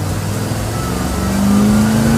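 Ford muscle truck engine revving up toward 5,000 RPM, a loud, close, continuous roar that climbs steadily in pitch and intensity through the second half.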